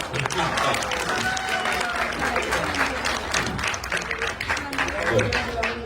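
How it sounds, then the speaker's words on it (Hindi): A theatre audience applauds an actor after a stage show, many hands clapping loudly and continuously while a voice speaks over the applause throughout. "यश राजपाल के लिए जोरदार तालियां होनी चाहिए।"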